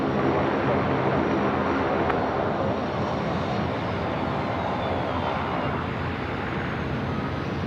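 An aircraft landing at Sydney Airport gives a loud, steady, continuous engine roar that holds at full strength throughout, with no talk over it.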